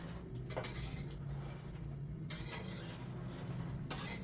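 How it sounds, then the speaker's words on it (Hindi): Dry fruits and seeds roasted in a pan, stirred slowly with a metal spoon: a low steady rustling under repeated scraping and clinking strokes against the pan, close and fairly quiet, with no talking. "सारी चीज़ों को आराम आराम से रोस्ट कर लेंगे।"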